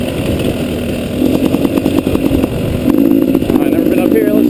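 A 2012 KTM 250 XCW dirt bike engine runs steadily, close by, with a buzzy mid-pitched drone that swells slightly louder partway through, while a person talks over it.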